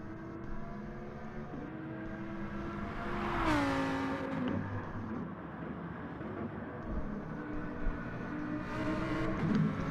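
Lamborghini race car engine in a racing video game at Suzuka Circuit, a sustained high engine tone rising and dropping through gear changes around the fourth second, with other cars droning nearby throughout.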